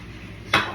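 Plates being washed by hand at home: a single short clink of dishes set against a faint background hum.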